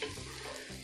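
Potato and carrot pieces fry in oil over medium heat for lentil soup, a close, steady hiss of sizzling with faint stirring in a brief moment without speech.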